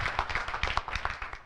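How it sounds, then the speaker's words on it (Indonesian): A quick burst of hand clapping, sharp and rhythmic, from a church congregation close by during a worship service. "beri tepuk tangan yang meriah buat Tuhan"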